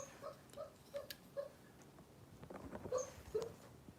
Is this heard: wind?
no